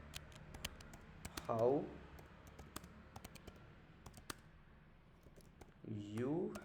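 Code is typed on a computer keyboard as scattered sharp key clicks at an uneven pace, close and fairly quiet, with short bursts of speech between them.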